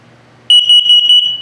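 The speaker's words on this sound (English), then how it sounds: "carbon monoxide coming up" An RV carbon monoxide alarm in a 2022 Sunset Trail 272BH sounds its test tone, a loud shrill piercing beep that starts abruptly and pulses rapidly in a near continuous burst.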